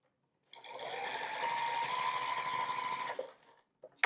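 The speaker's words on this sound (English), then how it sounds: "then we're going to finish sewing that first piece down now" A sewing machine stitches a quilt piece for a watermelon wall hanging in one close, steady run of about three seconds, a rapid buzzing rattle that stops abruptly, followed by a couple of small clicks.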